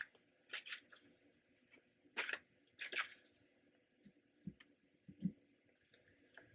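Soft, quiet clicks and riffling flicks come in short irregular bursts as tarot cards are shuffled close by in a hushed room.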